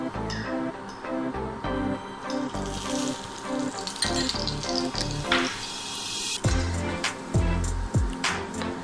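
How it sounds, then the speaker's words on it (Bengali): Chatu (sattu) paratha frying in a very little oil in a pan, with a soft, steady sizzle and crackle running throughout, broken by occasional clatter as it is handled and flipped. "এভাবে খুব কম তেলে আমি পরোটাগুলো ভাজার চেষ্টা করছি।"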